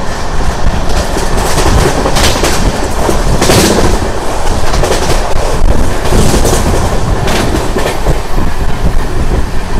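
The Satavahana SF Express rushes along at speed, its wheels clattering loudly and rhythmically over the rail joints with a continuous roar of wagons, close and unbroken for about ten seconds.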